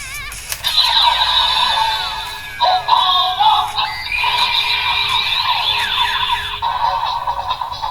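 A toy card reader's electronic standby sound as cards are inserted: warbling, siren-like tones rising and falling in a few loud bursts, close and continuous for several seconds.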